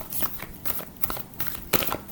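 Tarot cards being shuffled by hand, a run of soft papery riffles and slides that come in short bursts roughly every half second, close and fairly quiet with no talking.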